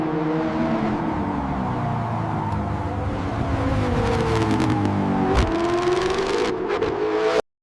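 A 1966 Ford GT40 Mark II with a 7-liter engine pulls away, its steady engine drone rising in pitch with a brief sharp clatter midway, loud and close with no talk.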